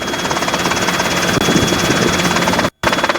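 A Robinson R22 helicopter on a training flight, heard from inside as a loud, continuous rotor and engine drone with a steady rapid beating pulse, briefly cut out near the end.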